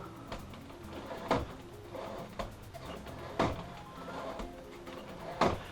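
A Samsung U28D590D 4K monitor stand is tilted and height adjusted, producing a few faint, spaced clicks and soft mechanical clunks with quiet shuffling in between.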